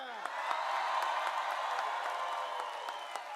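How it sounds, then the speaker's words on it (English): A large crowd at a political rally in Green Bay applauds and cheers for Governor Whitmer, with steady sustained clapping and whoops, a few sharp claps standing out near the front. "it's not every day a Lions fan gets that kind of applause in Green Bay"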